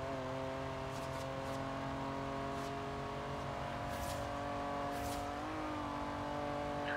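A car engine in the racing game Forza Horizon drones steadily under acceleration, its tone holding through the run and climbing slightly near the end, with faint tyre and wind hiss and no talk.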